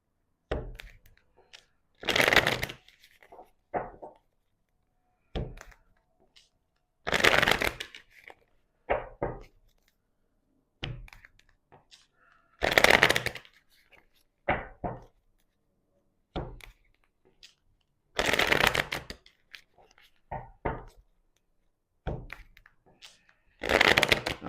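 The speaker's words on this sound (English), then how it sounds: "shuffle the cards." Bursts of tarot cards being shuffled, roughly every five seconds, each a crisp riffling flurry followed by a few soft taps and clacks, close and clear.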